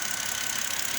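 A BMW X5 E70 with an N52 engine idling after an oil change and an aluminum valve cover install, giving a steady, even hum for about a second with no talk over it.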